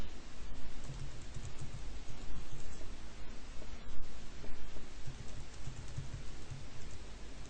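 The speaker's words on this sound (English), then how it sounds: "So we'll just type a message" Steady computer keyboard typing while an email message is composed, a continuous run of close, moderately loud key clicks with no voices.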